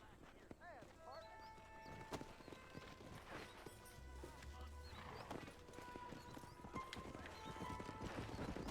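Horse hooves clip-clopping in the Western video game Red Dead Redemption, a steady trotting rhythm with occasional neighs and snorts, heard under game music and character dialogue.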